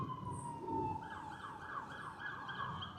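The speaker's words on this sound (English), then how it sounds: "I didn't want you guys to hear the sirens." A wailing emergency siren rises and falls repeatedly at a moderate distance, with low traffic rumble underneath.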